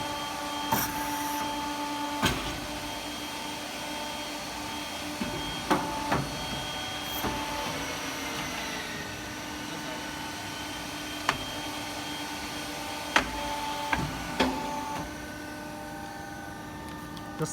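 Steel pipe bending machine running in a factory setting, with a continuous mechanical hum and whir and scattered sharp clicks and clanks, close and steady throughout.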